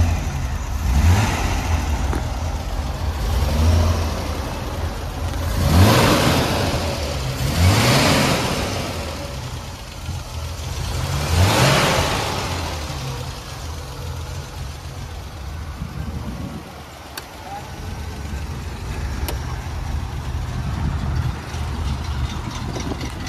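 A 1974 Triumph TR6 engine revs in several rising and falling bursts, then settles into a steady idle, close and loud with no voices.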